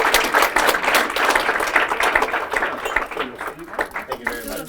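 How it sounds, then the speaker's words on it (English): Gala audience at an entrepreneurs' awards night bursting into sustained, dense applause, loud and close, fading slightly toward the end with some voices mixed in. "Give a round of applause for all our external service providers."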